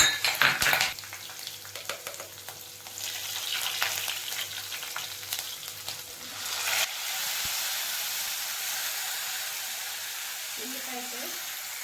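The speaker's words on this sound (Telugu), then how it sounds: "పచ్చివాసన పోయేంత వరకు చక్కగా వేయించుకోవాలి" Tempering spices with curry leaves and green chillies fry in hot oil for a stuffed brinjal curry: a loud burst of sizzling and stirring, then a steady hiss, with a voice speaking briefly.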